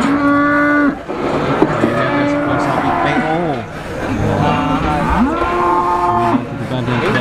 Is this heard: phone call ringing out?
no